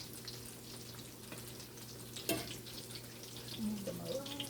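Apple fritters fry in hot oil on a large stove burner, a soft steady sizzle with occasional clinks and stirring sounds as the pieces are moved around, fairly quiet overall.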